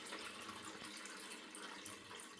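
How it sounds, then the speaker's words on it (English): Water pours steadily into a coffee maker carafe, making a continuous close hiss and rush that holds the same level throughout. "You can see the water coming up."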